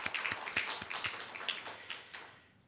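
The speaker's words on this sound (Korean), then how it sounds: "이기덕 권사님께도 감사의 박수" Church congregation at a Sunday morning service clapping in thanks, a moderate scattered round of hand claps that thins and fades out toward the end.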